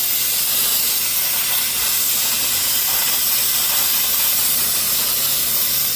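A Harbor Freight steamer blasts steam onto a greasy engine, a loud, steady, close hiss running unbroken from start to finish with no voices.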